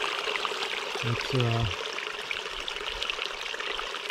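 Water trickles steadily through a small rock-lined pool in a Sierra Nevada mountain stream, a continuous soft wash running throughout, with a single brief spoken word partway through.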